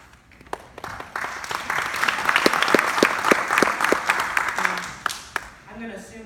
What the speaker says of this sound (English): I'm going to assume that was applause for me.